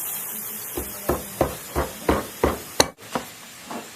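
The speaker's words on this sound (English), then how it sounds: "I'm going to form it into the ring shape. Do that by using a ring mandrel." A silver ring strip being hammered on a ring mandrel, eight sharp metallic taps at a steady, fairly quick rhythm, with one louder ringing strike near the end.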